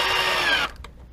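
Power drill driving a NevRStrip construction screw into wood, a loud close high whir that stops abruptly partway through and leaves a few faint clicks.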